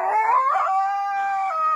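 A husky howls in a long, loud, close, wavering cry that rises and then holds steady, with no talking.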